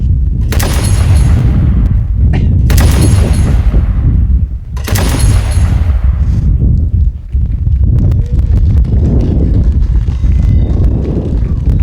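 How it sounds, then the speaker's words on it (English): A ceremonial three-round gun salute is fired outdoors on Australia Day in Naracoopa, King Island. Three loud booming shots come about two seconds apart, each with a long rolling echo, then crowd and ambient noise follow. "Ted, are you ready to fire 3 rounds on the count of 3?"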